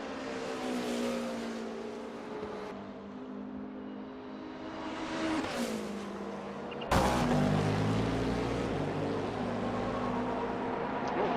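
Cadillac hypercar engine in a racing video game at a 24-hour Daytona event, a loud sustained engine note with rising and falling revs, then a sharp jump in volume around the middle as the car accelerates hard.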